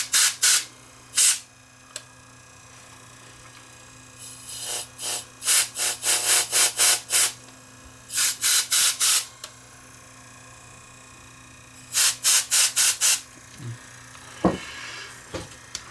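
Grinding from the tape mechanism of a Sony DCR-TRV530 Digital8 camcorder with a bad bearing, heard close up as bursts of harsh scraping noise in repeated clusters separated by short pauses, over a steady low hum.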